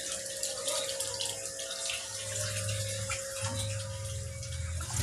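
A Pereha PB12000 pump runs a koi pond filtration system, sending a steady, close rush of flowing water with a low hum under the splashing and no voices.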